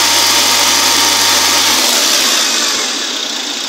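A Renault Sandero Stepway engine runs loud and close with a harsh, steady whir, its low hum dropping away partway through while the broad noise eases slightly; the car's air conditioning compressor is faulty and not compressing.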